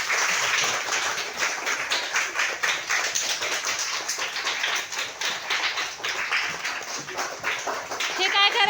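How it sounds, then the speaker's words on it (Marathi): Schoolchildren standing in a classroom clap their hands together in a dense, rapid patter of many overlapping claps, fairly close, with voices audible among them and a brief rise at the end. "चला एकदा छानपैकी मस्तपैकी टाळ्या वाजवा उभं राहून."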